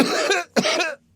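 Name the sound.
woman coughing, performed by audiobook narrator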